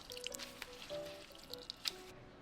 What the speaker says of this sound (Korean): 절여진 오이는 물기를 꽉 짜주세요.